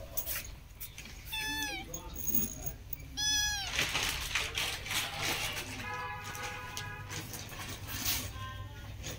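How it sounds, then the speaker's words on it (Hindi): A small kitten meows several times in short, high cries, close by, mixed with background noise and some indistinct voices. "गाइस ये देखिए बिल्ली का बच्चा"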